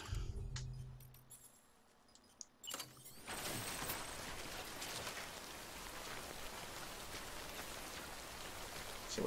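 Steady rain in Death Stranding patters across the whole scene after a brief quieter start with a few clinks, a dense wash of falling drops at moderate volume.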